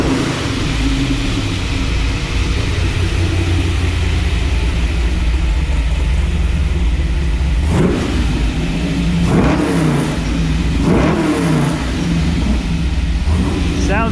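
A Chevy car engine runs steadily while warming up, then gets revved three times in quick bursts near the end, loud and close, with no talk over it.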